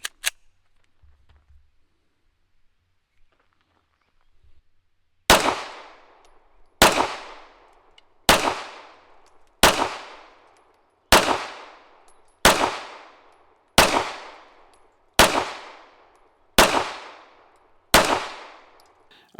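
A pistol with a 4-inch slide and barrel on a metal frame, used for dry-fire training, gives a few faint early clicks. Ten crisp, loud snaps then follow at a steady pace about a second and a half apart, each trailing off quickly.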